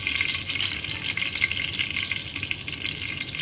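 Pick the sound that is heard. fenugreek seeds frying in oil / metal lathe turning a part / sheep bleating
fenugreek seeds frying in oil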